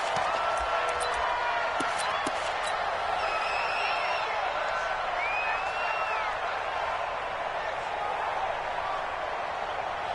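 A stadium crowd in an American football video game, Arizona Cardinals against Minnesota Vikings, fills the background with a steady, distant roar and scattered whoops and whistles, with no single loud burst.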